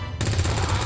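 Sudden loud gunfire in XCOM 2 breaks in after a short quiet moment, a dense continuous burst of shots rattling up close.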